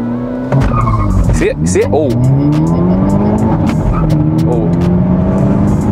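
A 2022+ Hyundai Elantra N launches hard at 4,000 RPM, the engine note sweeping up through the gears with chirping tire squeal and juddering wheel hop, loud and close, while a driver speaks briefly over it.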